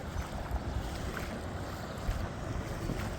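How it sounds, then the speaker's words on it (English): Floodwater from a river that has burst its banks rushes through a Leicestershire waterway, a steady broadband roar with wind buffeting the microphone, continuous and fairly close with no voices. "That river has burst its banks and it is literally just flowing straight through there."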